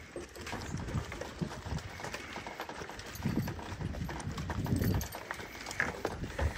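Horses' hooves clip-clop at a steady gait as a team pulls a wagon on a trail, a rhythmic series of moderate hoofbeats over faint background noise.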